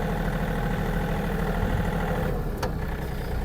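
A Yanmar US-324 mini tractor's diesel engine runs steadily at a raised speed, a dense continuous low drone with a brief clank near the end.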